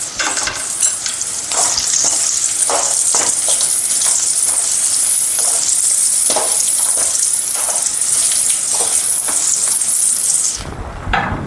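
Tempering sizzling hard in hot oil in a pan for a flattened-rice avalakki snack, a loud continuous hiss with scattered crackles and stirring scrapes that cuts off sharply near the end.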